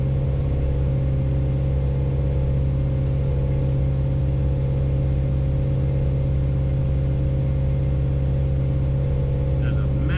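A Ford F100 engine with Holley EFI runs on a dyno, a loud, steady low drone held at a constant speed throughout, close and unchanging.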